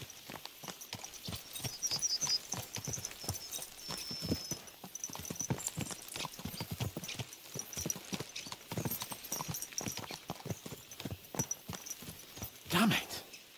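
Horses trot in Kingdom Come: Deliverance 2, their hooves clip-clopping in a steady, rapid rhythm throughout with a brief snort near the end, while a voice speaks over the hoofbeats.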